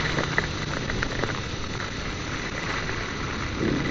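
Heavy rain during a motorcycle ride in Central Java, heard as a steady, dense hiss of falling drops and road spray that fills the whole stretch without letting up, with no voices.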